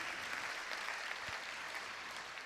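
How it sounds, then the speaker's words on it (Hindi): Applause from an audience at a spiritual class, a faint, even, continuous patter of many hands clapping with no talk. "जोरदार तालियां इस बात के लिए आप बजा सकते हैं"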